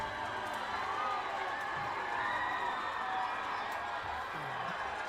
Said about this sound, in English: East Hickman players riling up the crowd